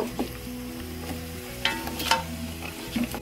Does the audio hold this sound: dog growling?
no